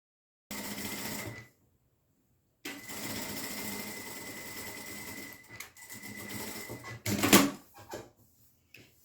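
A sewing machine stitches the hem along the lower edge of a fabric dish towel in bursts of steady motor whirring, a short run then a longer one, with a brief louder clatter near the end.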